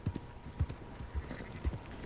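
Horse hooves in the video game Red Dead Redemption 2 clip-clop in a steady walking rhythm, soft, evenly spaced thuds over a quiet background.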